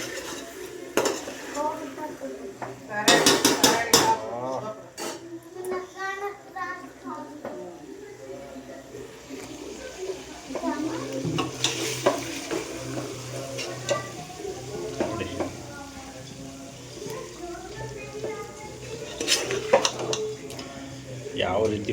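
Chicken pieces fry and get stirred in hot oil in a pan for a home-style chicken gravy, with clattering utensil and pot knocks over a steady sizzle and voices talking intermittently in the background.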